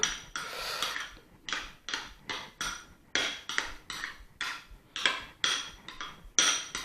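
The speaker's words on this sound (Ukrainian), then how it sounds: "Ось так ми розмішуємо наш соус на маску." A utensil stirs a garlic and pepper sauce for fried cucumbers, making close, rhythmic clinks and scrapes against the bowl, roughly two strokes a second, with no talking.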